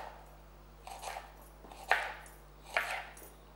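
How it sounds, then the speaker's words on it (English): A knife cuts through the white part of a leek on a board, giving four soft chopping strokes that grow slightly sharper, close and quiet, with no talk. "you just take the white part of the leek. Okay, so just cut it."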